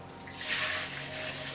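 Liquid tofu pudding poured into a container, a soft continuous splashing trickle that swells slightly midway, quiet and close with no talking.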